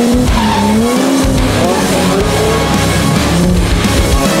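Car in an iPad racing video game accelerating and skidding, with continuous loud engine whine and squealing tires swooping up and down in pitch throughout.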